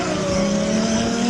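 Drift cars run on a race track at a Lone Star Drift event with a loud, sustained engine whine and rising tone, close and continuous.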